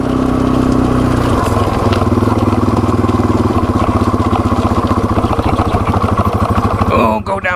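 A Yamaha TW200 dual sport motorcycle engine runs loud and close with a rapid, steady thumping beat on a trail by an abandoned railroad, its pitch dropping slightly partway through before cutting off near the end.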